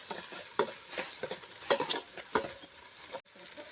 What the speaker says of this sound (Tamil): கொஞ்சம் வெங்காயம் கொஞ்சம் தக்காளி மட்டும் இப்போதைக்கு ஆட் பண்ணிக்கிறோம் இப்படி வதக்குனா தான் கொஞ்சம் நல்லா டேஸ்ட்டு கொடுக்கும்